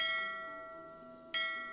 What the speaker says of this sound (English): It's the class bell, obviously.